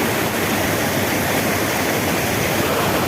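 Lake Mist Waterfall pours in a dense, steady roar of falling water, loud and close with no other sounds over it.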